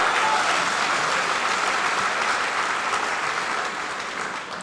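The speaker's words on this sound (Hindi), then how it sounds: "स्वागत है, तालियों से इजाजत दे दिए।" An audience of college students claps at a kavi sammelan poetry recital in a university hall, a dense, sustained round of applause that holds steady and tapers slightly near the end, with no voices over it.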